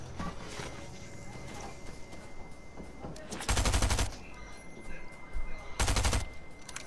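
Bursts of rapid gunfire in the video game Fortnite, two loud volleys lasting about half a second each, preceded by quieter scattered shots and game ambience.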